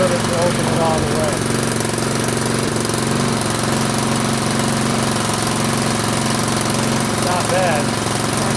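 Troy-Bilt Storm 2840 snow blower engine running outdoors in the cold at a steady, slightly rough idle, a constant close mechanical drone with faint chirping squeaks layered on top.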